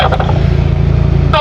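Off-road vehicles in a convoy drive across desert sand dunes in Iran. A close, loud engine drone revs briefly in a short burst.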